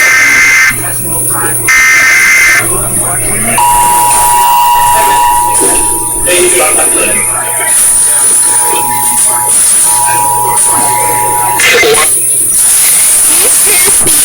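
An Emergency Alert System test blares loud, harsh buzzing alert tones in repeated on-off bursts, with a long steady tone holding through the middle.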